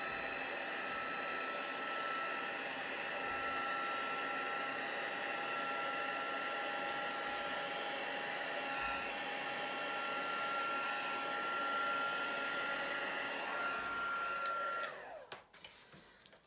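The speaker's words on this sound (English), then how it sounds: "if you're impatient, you can use your heat tool." A heat tool blows steadily to dry a watercolour background made with an acrylic block, a continuous close whooshing hum with a faint whine that holds for about fifteen seconds before cutting off.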